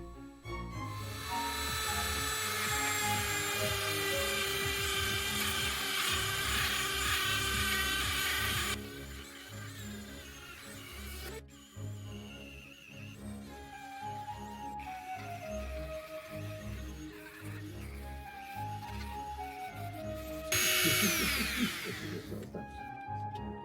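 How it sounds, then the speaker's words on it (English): An old Dremel rotary tool sands into the corners and detailed areas of a wooden worktop, a loud continuous high-pitched whine that shifts pitch as the bit presses and lifts, running steadily throughout. "I whipped out the old Dremel to get into all of the corners and address the finer, more detailed areas"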